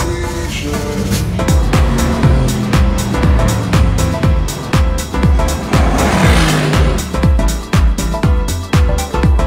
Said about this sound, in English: The car feels amazing to sit in, and as you can probably hear, sounds incredible.